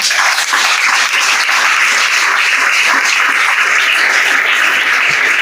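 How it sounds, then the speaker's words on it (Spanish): A church congregation applauds loudly and steadily, many hands clapping together in a dense, continuous wash that keeps the same level from start to finish. "Fuerte el aplauso para el Señor."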